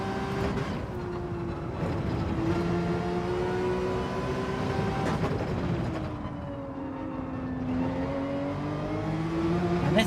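A Porsche GR.3 race car engine in Gran Turismo 7 drones steadily throughout, its pitch rising and falling through shifts and throttle changes, loud and continuous with no voices.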